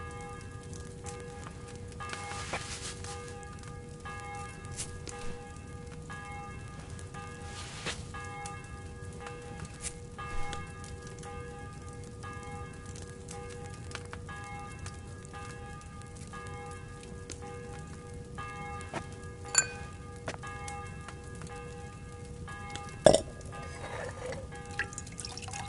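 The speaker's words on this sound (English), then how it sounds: "The 11th toll of the bell." In the video game Kingdom Come Deliverance II, a church bell tolls the eleventh strike before an execution, a faint, sustained ringing tone that lingers over a quiet background with a few soft knocks.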